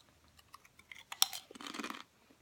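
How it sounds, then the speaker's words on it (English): Doritos chips being munched close up, a few quiet crunchy bites followed by a denser burst of chewing, then fading out. "I'm munching on some Doritos."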